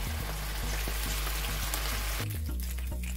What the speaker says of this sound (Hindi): अब इसे हम फ्राई कर लेते हैं